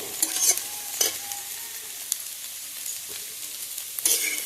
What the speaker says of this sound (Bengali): দেখো আমি অনবরত নাড়িয়ে চাড়িয়ে যাচ্ছি, যদি নিচে লেগে যায় তাহলে আবার স্বাদটা নষ্ট হয়ে যাবে।